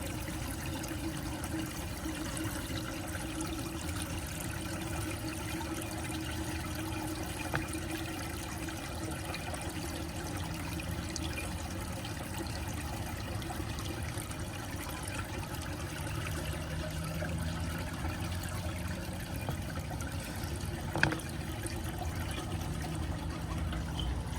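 Water keeps running and trickling steadily through a vintage Briggs Beautyware toilet held on flush, a long even wash of liquid with one brief clunk late on.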